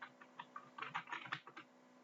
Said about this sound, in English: I'm just typing commas between these